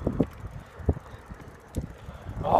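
Wind buffets a microphone outdoors in uneven gusts, giving rough low rumbles and flaps that swell louder toward the end.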